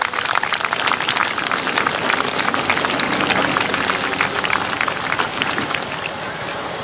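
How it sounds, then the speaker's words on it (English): Sustained applause from a large audience honoring World War II veterans at a 2012 Rockford battle reenactment event, dense steady clapping filling the space for several seconds without a break. "Can we have a nice round of applause for everybody, and especially our World War II veterans?"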